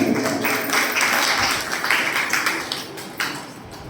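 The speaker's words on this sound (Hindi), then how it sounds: "आइए जोरदार ताली" A short burst of clapping from a group, loud and dense at first, then tapering off within a few seconds.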